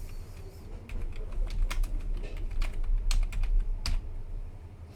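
Quick bursts of keystrokes on a computer keyboard as a file name is typed in a code editor, close and crisp, with short pauses between clusters of clicks.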